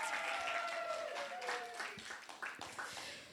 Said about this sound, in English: So everyone, please give a round of applause to Jason Allen-Paisant.